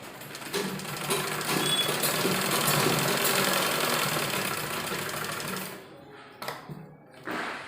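A sewing machine stitches loops onto a kurti in a fast, steady mechanical whir that runs for several seconds, then stops with a few short bursts and clicks.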